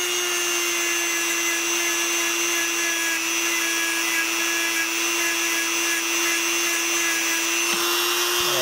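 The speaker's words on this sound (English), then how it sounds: "here's my little Dremel, and then I just kind of go over it like that" Small Dremel rotary tool whining at a steady high pitch while grinding corroded legs of a chip on a GORF arcade ROM board, close and continuous, ending with a brief clunk.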